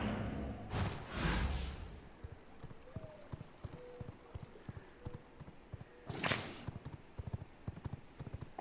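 Horse hooves clip-clopping in a vampire steampunk video game: a steady, even rhythm of light hoof clops at a walking pace, moderately close, with a couple of whooshing swells in the background.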